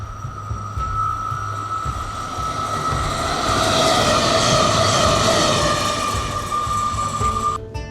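A local commuter train in Germany rumbles along steadily with a constant mechanical drone and rushing noise, loud and close, swelling slightly in the middle.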